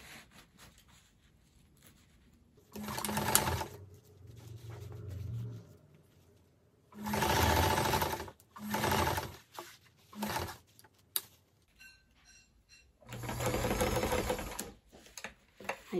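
A sewing machine stitches rickrack trim onto a purple dress in several loud, close bursts of rapid whirring, separated by quiet pauses, with no talk.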